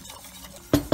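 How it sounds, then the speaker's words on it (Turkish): A spoon stirs tomato soup thickened with flour in a pot, giving quiet scraping and swishing that end in two sharp metallic clinks against the pot's side. "Karıştırıyorum."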